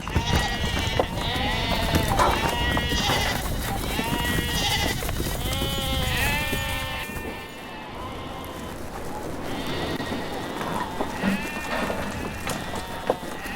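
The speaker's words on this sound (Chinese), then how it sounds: "只不过要等到太阳升高了，纳斯格才会把羊群赶出棚圈。" A flock of sheep bleats repeatedly in winter in Hexigten grassland, Inner Mongolia, many overlapping calls near and far, with a brief lull before the bleating resumes more sparsely.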